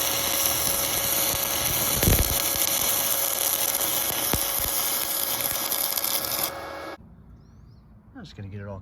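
An angle grinder works over a weld on an antique cast iron planter, a steady high abrasive whine with a couple of sharp catches, cutting off near the end.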